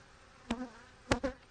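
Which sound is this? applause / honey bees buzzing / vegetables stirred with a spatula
honey bees buzzing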